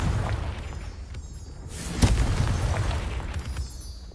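A Confringo fire spell from the Hogwarts Legacy video game bursts in one sharp, loud blast midway through, trailing into a low rumble over a steady bed of dense background game noise, with no talking.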